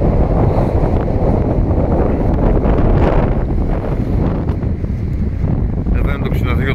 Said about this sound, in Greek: Συγγνώμη για τον ήχο, αλλά είμαι έξω και φυσάει πάρα πολύ.